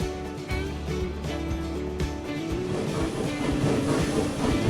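A train runs along the tracks in the video game Transport Fever 2, steady rumbling with rhythmic clicking of wheels and a soft hiss, fairly loud and continuous without speech.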